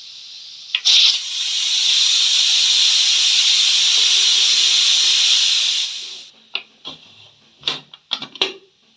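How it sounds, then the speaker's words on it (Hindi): Steam hisses loudly and steadily for several seconds as a pressure cooker of salted mutton is opened, then gives way to scattered clinks and clatters of the pot and lid. "20 मिनट के लिए मैंने प्रेशर कुकर को बंद किया हुआ था। अब हम इसे खोलते हैं।"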